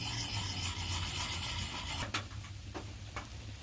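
A Fallkniven DC4 knife blade rasps steadily across a sharpening stone at camp, close and fairly faint, with a few sharper scrapes near the end as the strokes change.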